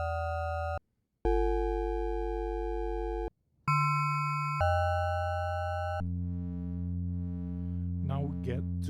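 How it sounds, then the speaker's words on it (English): Pure electronic sine tones from a Voltage Modular synth patch sound alone in long sustained blocks that cut out and change pitch, ending with a detuned pair beating in a wavering pulse, plus brief chirps. "Now we get 2 sine waves on the same frequency, and we shall detune them."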